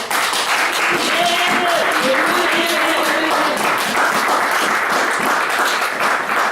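A church congregation applauds after a Bible reading, dense sustained clapping that fills the room loudly and evenly for several seconds, with a few voices faintly mixed in.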